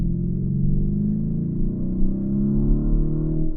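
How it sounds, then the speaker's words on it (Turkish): Lamborghini Urus SUV exhaust in Sport drive mode, a steady deep low rumble with a slight swell in pitch, loud and close, without talk. "Hemen egzoz sesi değişti."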